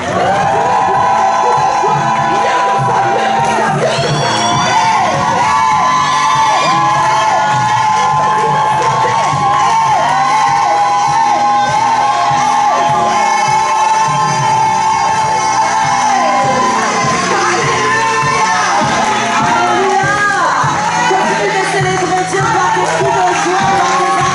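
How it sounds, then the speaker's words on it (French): A church congregation shouts and cheers with joy, a dense, loud and unbroken wall of voices, whoops and cries that fills the whole stretch without letting up. "Est-ce que tu peux pousser des cris de joie?"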